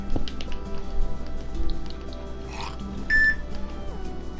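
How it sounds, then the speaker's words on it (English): A phone gives a single short electronic beep partway through, heard alone over a faint, steady bed of Minecraft game ambience and quiet clicks. "That was my phone again beeping."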